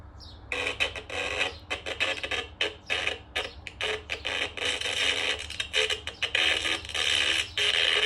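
Buzzy, harsh electronic game sounds from the Atari Lynx game Blue Lightning play from the handheld's small speaker, pulsing in rapid choppy bursts with a noisy, crackling texture and no voices.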